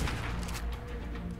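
Rapid rifle gunfire in the video game ARK: Survival Evolved, a dense burst of shots filling the moment, loud and close with a steady roar and no talk.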